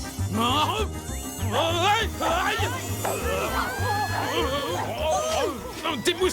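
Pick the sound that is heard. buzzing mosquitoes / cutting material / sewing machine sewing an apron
buzzing mosquitoes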